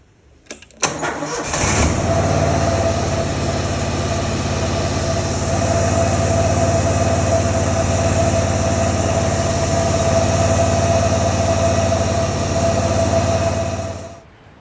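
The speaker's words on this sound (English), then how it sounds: "I'm gonna start the machine up now and just run it for a minute" A Scag Turf Tiger riding mower's engine cranks briefly and catches, then settles into a loud, steady idle with a constant drone that runs on for several seconds before cutting off.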